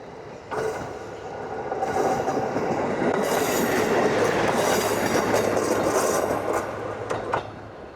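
A train rumbles past on a rural Japanese line near Ise, wheels clattering over rail joints with faint squeals, rising as it nears and holding steady for several seconds before a sharp drop-off.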